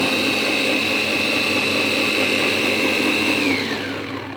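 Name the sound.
electric grinder making green chili and coriander paste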